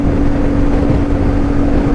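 CFMoto 450MT motorcycle engine cruising at 100 km/h, a loud, smooth, steady drone with a constant tonal hum and rushing wind, unbroken throughout.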